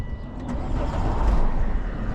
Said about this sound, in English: And there's that blue car going over the cattle grate there now.